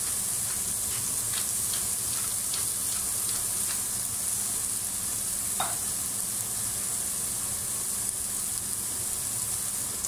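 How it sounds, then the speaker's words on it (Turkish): Oyster mushrooms cooking in a pan with salt and black pepper, a steady low sizzle running throughout, with faint ticks and one brief sharper clink midway. "Güzelce tavada istiridye mantarlarını pişiriyorum."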